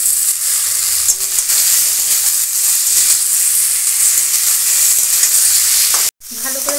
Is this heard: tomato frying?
yes